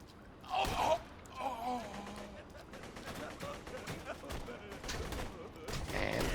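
Gunfire and explosions from the video game Borderlands 2, with bursts of shots and blasts mixed under someone talking over the game's busy, continuous action.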